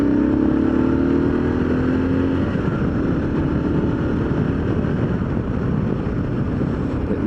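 A Kawasaki KLR motorcycle engine running steadily after a long winter layoff, a continuous droning idle with a slight pitch rise early on, close and fairly loud with no talking.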